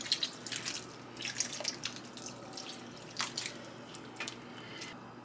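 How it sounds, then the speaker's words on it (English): Water poured from a cup into a pot of thick vegetable soup, a soft continuous splashing and trickling with small drip-like spatters, fairly quiet and steady throughout with no talking. "So I'm gonna add some more water to this."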